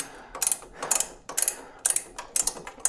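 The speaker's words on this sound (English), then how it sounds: "just keep your finger on the ratchet thing so it keeps it tension, so it keeps loosening it up" Socket ratchet turning long bolts while loosening the handlebar clamp on an Indian motorcycle, giving several quick bursts of bright clicking pawl ratchets in uneven groups, close and clear with no talking.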